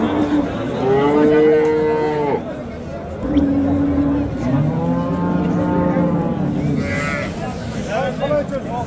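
Cows moo in long, drawn-out calls at a busy livestock market, several calls close by over the background chatter of a crowd.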